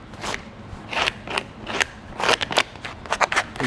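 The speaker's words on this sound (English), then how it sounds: "Be sure we rub that tape down until we can see that scrim pattern come through." A squeegee rubs tape down onto fiberglass duct in a series of short, scraping strokes, irregular in rhythm and close up, louder toward the end.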